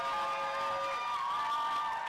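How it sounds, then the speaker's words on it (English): Crowd cheering in the stands at an England vs Ireland rugby match after Ireland add four points; a continuous roar of voices and whoops, somewhat distant and steady throughout. "And the crowd is into it."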